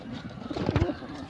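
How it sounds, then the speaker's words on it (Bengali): A Kalanka Matraj pigeon coos up close, one short soft throaty burst of low cooing heard against faint background noise. "এই যে একটি পায়রা, কালাঙ্কা ম্যাটরাজ পায়রা।"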